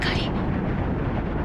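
An anime sound effect of an asteroid being shattered: a sharp explosive burst at the start gives way to a heavy, rolling rumble, with voices talking over it.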